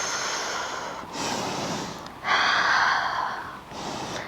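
Several slow, breathy exhales during a Pilates core stretch, each a soft broadband rush of air lasting about a second, close and steady, with a brief pause between the second and third breaths.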